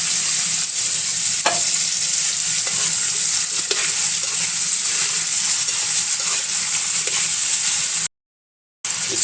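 Carrots, potatoes, cumin and green chili stir-fry in a pan with a loud, constant sizzle and occasional spatula scrapes, close up and continuous before a brief drop to silence near the end.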